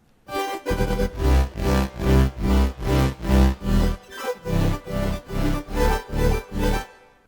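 Chopped bass sample with timbre resynthesis and added reverb, a color-bass sound playing about fifteen rhythmic, evenly spaced loud chords with a heavy low end, followed by a brief drop and a second run of pulses.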